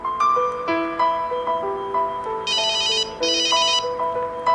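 A cell phone ringtone plays a bright electronic melody with sparkling high trills, loud and close, with no voices, from a phone inside a blast test chamber.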